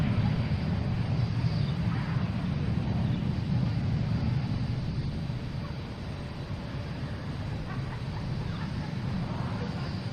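A Delta airliner climbs out after takeoff at Boston Logan, a fairly faint, distant rumbling roar that holds steady and eases slightly midway.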